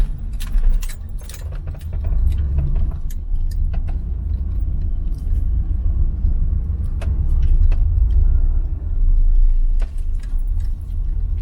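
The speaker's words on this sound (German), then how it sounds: "dass ich jetzt mal mit dem Auto hier auf die Hebebühne fahre" A 1982 Corvette C3 Collector Edition engine rumbles low and close as the car creeps forward onto a vehicle lift, with scattered metallic clinks and rattles over the steady drone.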